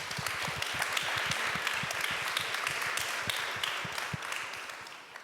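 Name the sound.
audience applause at a conference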